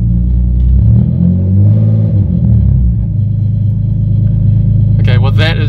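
An Alfa Romeo 147 GTA engine rumbles loudly as the throttle is blipped, rising and settling in revs, with a voice speaking briefly over it.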